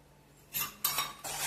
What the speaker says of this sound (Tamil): சேர்த்துட்டு நல்லா திக்காகிற வரைக்கும் நல்லா மிக்ஸ் பண்ணி விடுங்க.